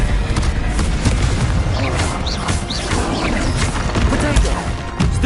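Spell blasts from a wizard video game, the Confringo fire curse, erupt as a dense run of booming crashes and thuds across several seconds, loud and close, with a voice shouting over the game.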